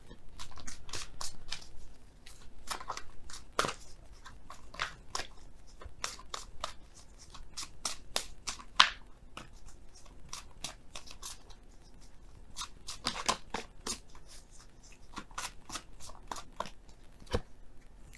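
Oracle cards shuffled by hand during a tarot reading, a long run of crisp, rapid card riffles and snaps, close-up and steady with brief pauses, no voice over it.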